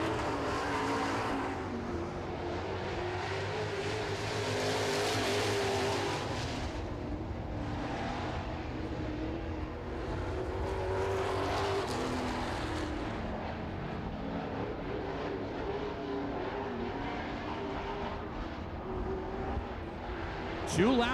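Super trucks roar around an oval track in a heat race, a continuous loud engine drone with passing surges, while a commentator talks over it.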